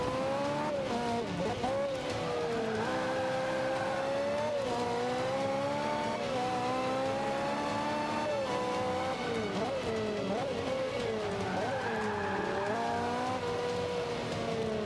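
Race cars in the video game Forza Motorsport 5 drive with a continuous loud engine whine, pitch rising and falling through gear shifts and accelerations, with brief tire squeals and no break in the noise.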